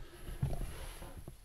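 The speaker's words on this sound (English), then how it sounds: "Sounds like a wolf." A brief, faint wild animal call heard at night on Exmoor moorland, thought to be a wolf: a low, rough roar-like burst rising briefly, then a quieter second note, distant against soft background noise.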